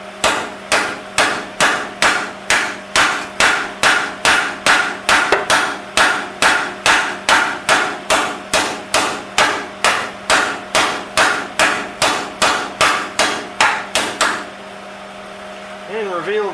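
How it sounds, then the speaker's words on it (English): Rapid, steady hammer blows pound down hot, freshly welded metal on the front of a Mazda being bagged, about two strikes per second for fourteen seconds, loud and close, then stopping. "so now we're gonna hammer that down"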